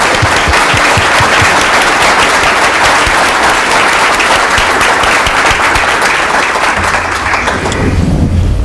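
An audience applauds public safety officers at a public meeting, with loud, dense, sustained clapping that fills the room throughout and eases slightly near the end.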